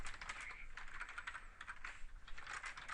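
Rapid, fairly quiet clatter of keys on a computer keyboard as a note is typed, continuous and close with an uneven rhythm and no voice over it.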